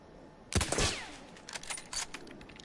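A bolt-action rifle fires in the Battlefield 1 video game: one loud close shot with a rolling echo, then scattered quieter gunfire in the distance.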